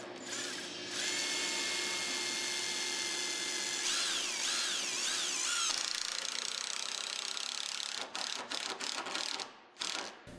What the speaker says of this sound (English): At the board's end, place a screw perpendicular at the recommended distance of 1 inch from the board's edge and side.